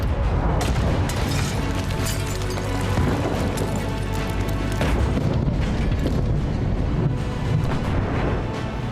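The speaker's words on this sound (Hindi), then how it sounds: "दक्षिणी लेबनान में इजराइल ने आसमान से इतनी बमबारी की कि पूरा इलाका धुआं-धुआं हो गया।" Israeli air strikes bomb southern Lebanon in a dense, continuous wall of deep rumbling booms and blasts. The roar runs unbroken throughout with no voices.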